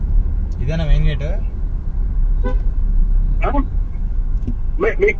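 Heavy street traffic rumbles continuously and low while several short car horn toots sound at irregular intervals, fairly close.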